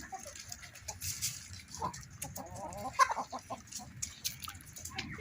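Chickens cluck and murmur nearby in a busy, scattered chorus, with brief sharper calls now and then over a soft background.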